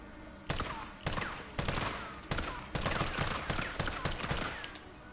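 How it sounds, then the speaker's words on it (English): Bullets fired in a PS4 video game: a string of sharp gunshot bursts, about seven volleys at uneven intervals, loud and close, with the rattle of automatic fire between them. "Okay, I'm just gonna waste 12 bullets."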